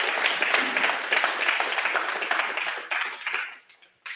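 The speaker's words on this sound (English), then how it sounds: "let's give them a round of applause" A live seminar audience applauding teachers in the room, a burst of many hands clapping that holds steady, then thins and fades out near the end.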